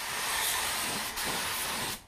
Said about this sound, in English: You want to spray that finish so it's like glass